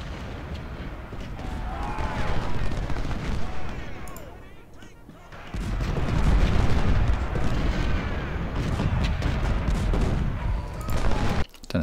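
Booming cannon volleys and crackling musket fire from a Civil War battle in the strategy game Ultimate General: Civil War, loud and continuous with a brief lull midway, someone talking over the gunfire.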